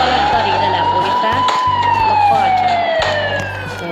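A police vehicle's siren wails loud and close in a steady rising-and-falling tone, with a low engine rumble pulsing underneath throughout.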